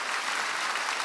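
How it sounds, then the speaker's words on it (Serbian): Studio audience applause at a Serbian TV music show fills the whole second, a dense, steady wash of clapping with no gaps. "Još jedan aplauz za"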